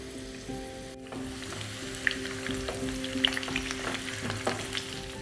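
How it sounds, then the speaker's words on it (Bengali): Boiled potatoes fry in hot mustard oil over a medium-high flame, a close, steady sizzle with small crackles and pops throughout. "তেলটা যখনই দেখবেন ভালো করে গরম হয়ে গেছে, তখন এখানে সেদ্ধ করা আলুগুলোকে এইভাবে ছেড়ে দিন"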